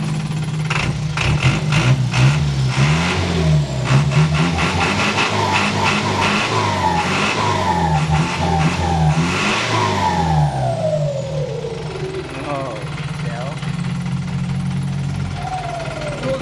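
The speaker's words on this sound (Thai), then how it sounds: "เบิ้ลเบิ้ลให้ฟังเสียงหน่อย" Isuzu NPR115 truck fitted with a big turbo and air brakes, its engine revved repeatedly in loud close bursts, rising and falling many times with a rough, clattering edge, then easing off with a long turbo whine.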